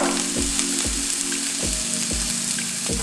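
Oyster mushrooms frying in oil in a pan, a loud continuous crackling sizzle with regular low thumps of stirring about every half second, no talking.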